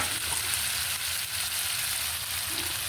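An egg frying in a pan, a loud, even hiss of sizzling oil that holds steady for a few seconds, with no one speaking.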